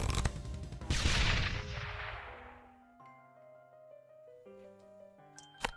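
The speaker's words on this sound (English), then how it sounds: "The good thing I have these mortars, though. They seem to be shredding." Mortar towers in the tower-defense game Rogue Tower fire a couple of loud, booming blasts with a long, bright, decaying tail. Sustained chiming tones follow, and a sharp hit lands near the end.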